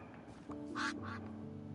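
A duck in the game Minecraft gives two quick, raspy quacks, close and moderately loud over faint background hum, with no talk over them.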